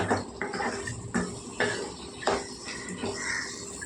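A utensil stirs masala through a mixed vegetable curry in a metal pan, giving repeated scraping clinks and knocks at a roughly even rhythm, fairly close and moderately loud, with no talking.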